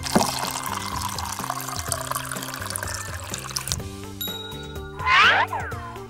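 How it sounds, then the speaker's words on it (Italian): Milk is poured into a toy ice cream mixer from a Nenuco playset, giving a short liquid trickle and splash, with a brief bright gurgle near the end over soft background music and no speech. "Versiamo nel mixer un po' di latte."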